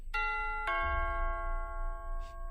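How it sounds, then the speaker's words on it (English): A two-tone doorbell chime rings once, ding then dong, with the second note lingering and fading over a low background rumble. "using his nose to ring the doorbell"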